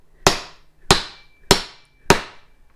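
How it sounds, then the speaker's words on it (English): Four sharp metallic strikes of a mallet on a socket set against a Fox 36 fork lower-leg nut, evenly spaced about half a second apart, each ringing briefly before fading, close and loud with no talk. "you can just use a socket and a mallet"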